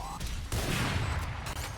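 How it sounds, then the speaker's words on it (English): Gunshots ring out during a competitive shooter video game match, a brief burst of broadband firing noise heard alone and up close. "And the gunshots come out"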